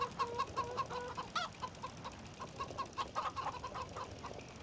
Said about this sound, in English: Quite like my chickens.